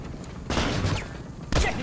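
Two loud, sharp bursts of video-game gunfire, the first about a third of the way in and the second near the end, with a low background hum and no talk.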